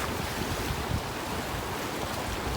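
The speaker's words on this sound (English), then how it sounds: "This is I want to say it's the Atlantic Ocean down in Puerto Rico." Ocean waves wash steadily on an Atlantic beach at the Gran Rio Mar in Puerto Rico, with heavy wind buffeting across the whole stretch, a continuous broadband roar with no speech.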